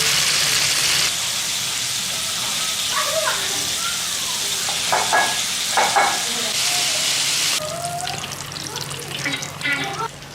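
Cornstarch-dusted ribbonfish pieces frying in oil at medium-high heat, a steady hiss and sizzle with a sharper burst as more fish goes into the pan, scattered clinks and stirring noises over the top.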